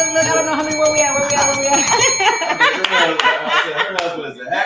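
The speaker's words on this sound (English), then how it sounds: "Y'all better ring, Nancy, ring the bell 20 times, 22 times" A bell rung over and over in rapid succession, bright ringing strikes layered under loud laughter and lively voices talking at the same time.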